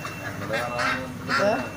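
Sea ducks at a meat shop give a few short honking quacks in separate bursts, fairly close and loud, with a voice audible in the background.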